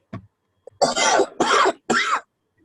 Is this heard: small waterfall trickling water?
no